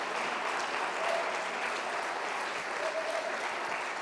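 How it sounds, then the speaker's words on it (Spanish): Continuous applause from a church congregation during a service, an even, fairly distant sheet of clapping that holds steady without any speech over it. "te voy a pedir una vez más que les demos un aplauso de amor, de reconocimiento,"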